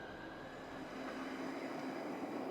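A South Western Railway Class 458 electric train rolls between stations near Vauxhall, heard from inside as a quiet, steady rumble with faint wheel hiss and a thin sustained whine.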